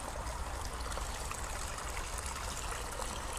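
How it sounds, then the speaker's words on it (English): Quiet, steady trickling and bubbling of a small stream with tiny tinkling falls along a path, a continuous close babble heard on its own. "Tinkling little falls of water, just bubbling away."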